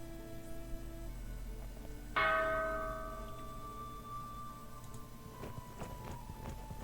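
A single bell struck once rings out in the fantasy video game The Dwarves, a bright metallic clang that decays slowly over a steady low background drone.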